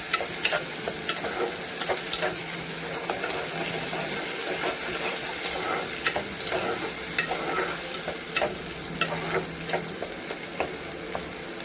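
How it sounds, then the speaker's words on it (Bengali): Garlic, ginger and onion being sautéed in oil, giving a steady close sizzle throughout with frequent sharp scrapes and taps of a stirring spoon against the pan. "এটা বেশ একটু ভালো করে কষাবো, যাতে কাঁচা রসুনের গন্ধটা চলে যায়।"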